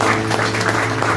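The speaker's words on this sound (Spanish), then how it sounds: "Denle un aplauso fuerte a Cristo, iglesia." Church congregation clapping for Christ during a Spanish-language worship service, a steady wash of applause carrying through the whole short moment at moderate loudness with no talk over it.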